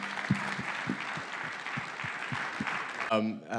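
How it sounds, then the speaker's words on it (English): A conference audience at a fintech summit gives a panel a light round of applause, with sparse, moderately quiet claps spread across the clip before a voice begins speaking at the end. "Please, a round of applause for the panel."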